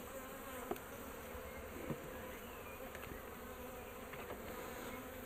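Honey bees buzz steadily around an open Flow Hive during a backyard inspection, a constant faint drone with occasional closer passes and no talking.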